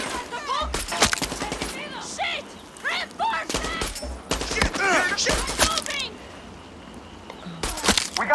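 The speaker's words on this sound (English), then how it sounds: "The headshot sound effect is a very effective sound effect" Gunfire in the shooter game Far Cry 6, including a sniper on a roof, cracks out in sharp single shots and rapid bursts close by, with game voices and effects between the shots.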